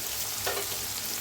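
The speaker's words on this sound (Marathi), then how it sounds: "गवारी बी मस्त भाजले पहा" Cluster beans roast in a pan with a soft, steady close sizzle and a brief stirring scrape midway, with no talking.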